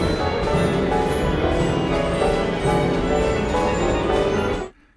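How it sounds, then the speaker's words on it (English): Glockenspiel and chimes play the bell part of Ives's Symphony No. 4 inside a dense orchestral texture. Bright struck tones recur steadily, and the full ensemble cuts off abruptly at the end. "Most performances of the Ives Fourth in the past made do with glockenspiel and chimes."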